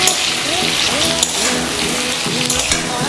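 Pointed gourd (potol) frying with a spoonful of sugar in a pan, a steady loud sizzle with scraping stirs and a voice talking over it.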